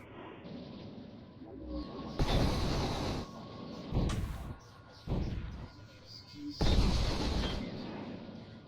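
Ship weapons firing at enemies in the space game S.P.A.Z. 2, heard as a string of loud booming blasts, several heavy bursts spread across the clip over a constant background hum.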